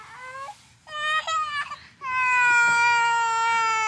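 A toddler wails in rising, drawn-out cries, starting with short sobs and building to a long, loud, sustained howl up close.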